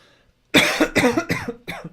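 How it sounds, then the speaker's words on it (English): A short run of four harsh coughs, close and loud, following brief quiet. "Ugh, coughing is getting harder."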